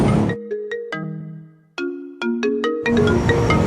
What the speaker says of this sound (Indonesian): Telepon tuh bocah.